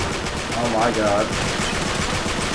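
Bursts of automatic gunfire from blind firing in the action game Uncharted 3 rattle steadily for a couple of seconds amid the noise of combat.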